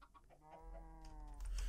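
A chicken in the Minecraft video game clucks in a short series of repeated clucks, followed by a louder burst of game noise, clear and close with no talk over it.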